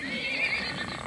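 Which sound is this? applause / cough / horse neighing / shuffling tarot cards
horse neighing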